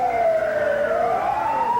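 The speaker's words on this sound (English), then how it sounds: "Now, when you hear the ambulance, you know that Bruiser Brody is on the scene" An ambulance siren wails continuously at ringside during a 1986 Texas All-Star Wrestling event, loud and close, with a sweeping pitch that dips and rises over road noise and no talking.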